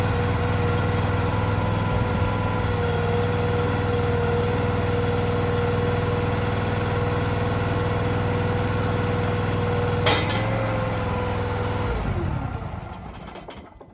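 The small engine of a used 18-24 machine runs at a steady, loud drone with a constant buzzing tone, gives a sharp click near the end, then dies away as it shuts down.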